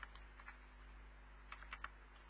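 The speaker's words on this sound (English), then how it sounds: "I'm just typing no request." Soft, scattered clicks of typing on a computer keyboard in short bursts, faint against a low steady hum.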